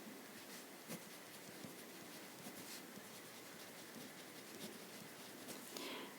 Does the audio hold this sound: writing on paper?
yes